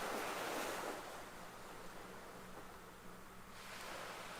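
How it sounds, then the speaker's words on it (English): Ocean waves washing onto a lake or sea shore, a steady broadband wash of surf that swells louder at the start, eases through the middle and builds again near the end, with no voices. "Inhaling with the sound of the waves, and exhaling as the waves recede"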